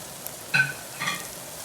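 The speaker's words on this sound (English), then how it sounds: "I'm going to give that a quick stir." A utensil stirs diced tomatoes into a pan of frying meatballs for spaghetti sauce, making two quick, soft scrapes about half a second apart over a faint, quiet sizzle.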